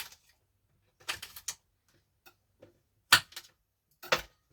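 A kitchen knife chops stew ingredients, trimmed of their edges, into inch-sized pieces, making a few separate clusters of crisp, close tapping cuts with quiet pauses between them.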